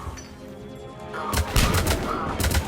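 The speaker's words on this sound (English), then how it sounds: "Alright, that's a grenade." A grenade going off in Mass Effect 3 combat: a quiet stretch, then a loud, sudden blast followed by rumbling gunfire-like bursts.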